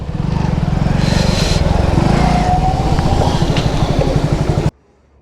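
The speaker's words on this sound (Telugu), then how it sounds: "ట్రాఫిక్ అనేది ఘోరంగా జామ్ అయింది." Motorcycles and cars idle and rev in a traffic jam on a snowy mountain road toward Gangotri temple. The engines hum steadily and loudly for about five seconds and then cut off abruptly.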